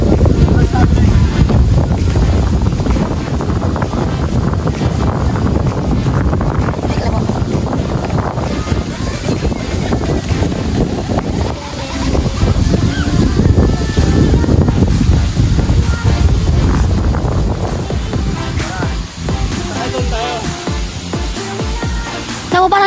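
A strong wind blows on the coast at Pugad Lawin, Pagbilao, Quezon, in stormy weather. It buffets the microphone in a loud, continuous roar that surges and dips for the whole stretch, with voices at times beneath it.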